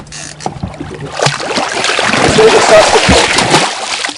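A caught shark is held in the water and released beside a boat in Luce Bay, giving steady splashing and sloshing that grows louder toward the middle, with a voice in the background.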